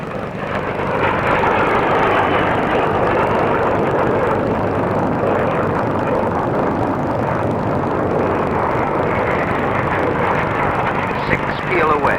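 A formation of 22 Hawker Hunter jets from 111 Squadron loops overhead at the 1950s Farnborough air show, a loud, continuous broad jet roar sustained throughout, with a voice talking over it.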